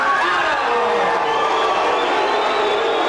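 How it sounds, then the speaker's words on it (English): A boxing arena crowd reacts to the announced fight decision after Runnell Doll vs. Clarence Adams in 1992, a loud, sustained wash of mixed cheers, whoops and shouting that fills the whole moment. "Well, mixed reception from the crowd for the decision"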